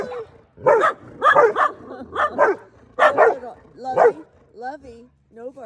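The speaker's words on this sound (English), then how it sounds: "no barking" A dog barks repeatedly in a garden, a string of close, sharp woofs in uneven bursts, then breaks off into a few higher whimpering yips near the end.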